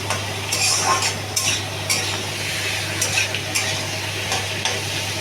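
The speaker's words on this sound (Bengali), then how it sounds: "এবার লাউটা করবো, নাড়িয়ে দেবো লাউটা।" Bottle gourd with turmeric and salt is stirred in a frying pan, a steady sizzle under repeated scraping strokes of a utensil against the pan, close and fairly loud, with a constant low hum beneath.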